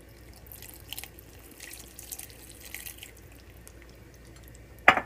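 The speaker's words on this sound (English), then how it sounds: "I'm going to use chicken stock, but you can absolutely use just plain water." Chicken stock poured over stuffed grape leaves (dolmades) in a pot, giving quiet, steady liquid trickling and dripping, with a sharper splash near the end.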